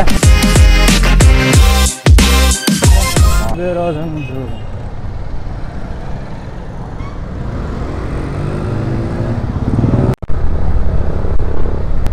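Motorcycles pass through a crowded street on Darbar Marg during Holi, their engines rumbling and swelling by close up amid general traffic noise, with people talking loudly over them at the start.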